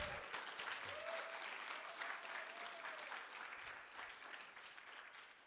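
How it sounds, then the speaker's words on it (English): An audience at a guide dog school graduation applauds the volunteer puppy raisers, with steady, dense clapping from a crowd held at an even level throughout, with a faint whistle-like tone early on. "So let's give them a round of applause right now."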